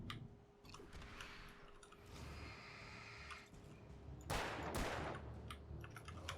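Gunfire in the video game Alan Wake Remastered: a sharp, loud burst of shots cuts in partway through, over a steady backdrop of game ambience and scattered clicks.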